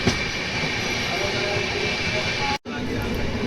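A train pulls into Palej railway station with a loud, continuous rolling rumble and rattle, briefly cut by a short dropout, with no clear talk.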